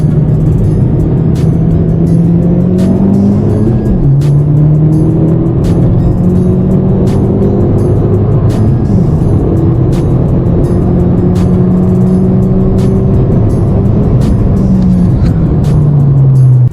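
A 10th-generation Honda Civic running a TSP Stage 1 tune pulls hard from a 40 mph roll, its engine note climbing steadily and loud, broken by a brief shift dip around four seconds before rising again, with steady road and wind noise throughout.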